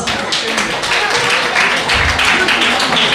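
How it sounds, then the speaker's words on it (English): An audience at a Women's Day celebration in Muscat applauds the Team Avon members, a loud, close, continuous round of clapping with a dull thump partway through. "Please welcome them with a huge round of applause"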